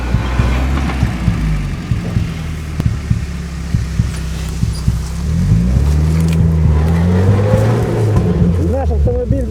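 Car engine revving hard while the vehicle sits stuck near an advancing forest fire, a low droning roar with rising and falling pitch, close and loud, with people talking over it.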